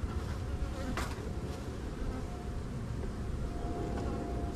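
Honey bees buzzing inside an opened hive's brood nest while colonies are split into five-frame nucs, a dense continuous drone of many bees, close and steady, with no talking.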